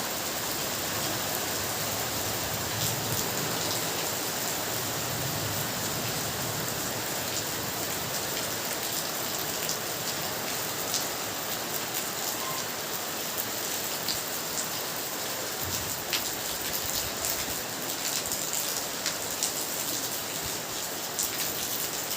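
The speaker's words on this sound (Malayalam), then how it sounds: "പുറത്ത് പെരും മഴയാണ്" Heavy rain pours down outside, a dense, unbroken roar of drops hitting surfaces that holds steady and fairly loud throughout, with no voices.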